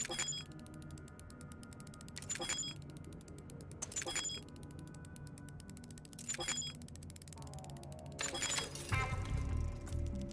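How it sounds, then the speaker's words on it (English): Metallic ratcheting clicks and gear-like rattles come in short repeated bursts as a lock on a fuse box is picked in the game Sunday Gold, ending in a heavier clunk, close and moderately quiet. "It's locked, but should be no problem for Frank to pick."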